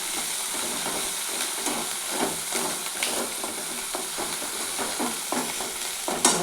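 Spice masala sizzling and hissing in hot oil in a pan, a steady close frying crackle with occasional stirring scrapes throughout, no talk.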